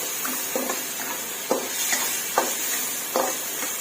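Mushrooms, mixed vegetables and minced pork are stir-fried in a pan, with a steady sizzle and a spatula scraping in repeated strokes roughly every half second, close and with no talking.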